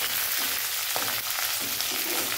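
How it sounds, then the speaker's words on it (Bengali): Curry leaves and green chillies fry in hot oil, a dense, bright, steady sizzle that fills the moment loudly and evenly, with no voices. "কারি পাতা দিয়ে দেবো। কাঁচা লঙ্কা দিয়ে দেবো।"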